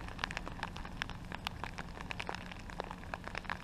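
Rain pouring down on a beach in Alaska, a dense, continuous patter of drops landing close by, with sharper splats scattered throughout over a steady wash of noise.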